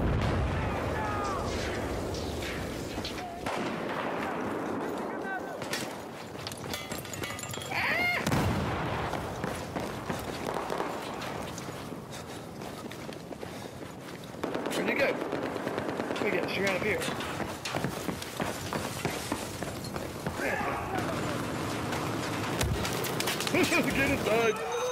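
Heavy gunfire in the Battlefield 4 video game on PS4, with machine-gun bursts and booming blasts in waves, loud and continuous, mixed with talk.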